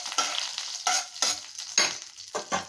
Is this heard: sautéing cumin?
yes